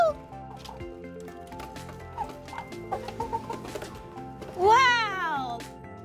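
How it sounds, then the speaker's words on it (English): Chickens in a coop, being fed dried corn, cluck in short, soft bursts, then give a louder, rising squawk near the end. "there's so many different kinds of chickens in here"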